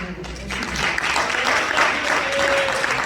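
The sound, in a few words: church congregation applauding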